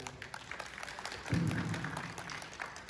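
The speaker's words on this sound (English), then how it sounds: "Please give me a round of applause." Audience at an interview event applauding briefly, soft scattered clapping that swells slightly midway before fading.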